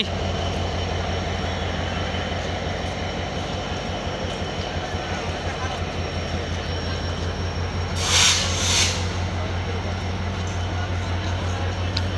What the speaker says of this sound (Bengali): পঞ্চগড়ের উদ্দেশ্যে ট্রেনটি ছেড়ে যাচ্ছে জয়দেবপুর থেকে।